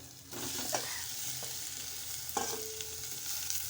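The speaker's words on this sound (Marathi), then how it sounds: "मिश्रण छान एकजीव करून घेत आहे" Onion and boiled potato being stirred together in a pan for bread patties, with a soft steady sizzle under a few scraping spoon strokes, close and moderately quiet.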